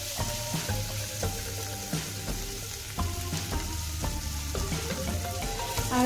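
Spices, including coriander powder, sizzle in hot oil as they are stirred in a pan for a bitter gourd dish, a steady close frying hiss with repeated scraping and tapping of the spoon, no talk.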